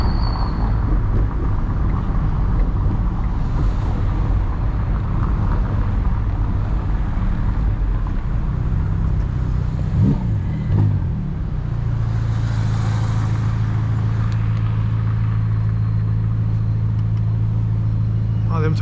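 A 2021 Ferrari Roma on the move with its windows open, a steady engine drone and road noise that settles into a deeper, sustained tone partway through, with no talk over it.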